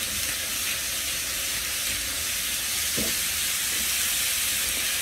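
Sloppy joe meat mixture seasoned with garlic powder, onion powder, salt, paprika and black pepper sizzles in a pan, a steady, loud, broadband hiss with a brief clatter near the middle.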